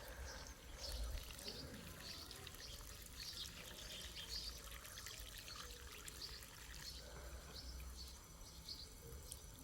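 Water pouring steadily onto heat-stressed garden plants such as a tomatillo, a soft continuous trickle outdoors with faint birdsong in the background.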